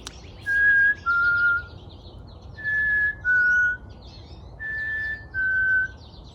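A person whistles a clear two-note call three times, a higher tone then a slightly lower one, imitating a chickadee's song with even pauses between.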